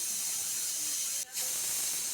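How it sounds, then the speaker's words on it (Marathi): Steam hisses loudly and continuously from a pressure cooker on a gas stove during its second whistle, with one brief dip in the middle before the jet resumes. "दुसरी पण शिट्टी झाली"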